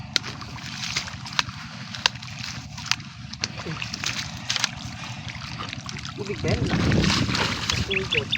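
Water from an open hose pours while calamansi plants are watered, a steady rushing and splashing that swells louder toward the end, with a few sharp clicks along the way.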